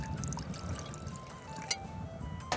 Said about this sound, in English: this is going to be a nice little pour